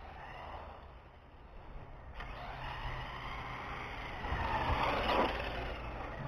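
A ZD Racing ZMT-10 RC truck drives over rough ground, its small electric motor whining and wheels churning steadily, with a sharp knock partway through and a louder surge near the end as it jumps.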